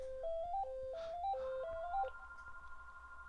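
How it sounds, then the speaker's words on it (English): A phone ringtone plays a repeating rising melodic pattern of clear electronic tones, three short phrases in a row, fairly faint and alone, followed by a sustained steady tone. "Oh, phone's ringing."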